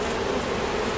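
Italian honey bees buzz steadily at an open hive as a honey super is checked and added, a dense, continuous drone close by with no talking.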